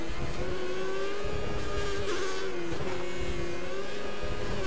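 A Formula 1 car in the racing game F1 2014 accelerates at full throttle, its steady high engine whine rising and shifting pitch over a continuous moderately loud drone, with no talking.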